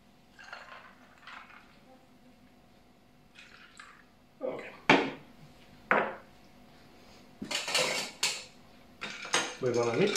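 Italian Paloma cocktail topped with Italian orange soda being stirred in a glass, soft clinks of a spoon against glass and ice building to sharper rattling strikes near the end, with some quiet voice underneath.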